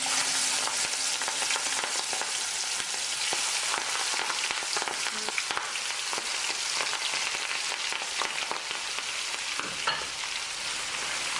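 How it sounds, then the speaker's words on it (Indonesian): Marinated shrimp frying in a hot pan give off a steady, dense sizzle with crackles and spatters throughout, close and continuous, with no voices. "Setelah selesai dimarinasi, kita langsung aja goreng."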